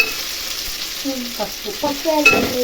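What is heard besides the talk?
curry frying in pan with ginger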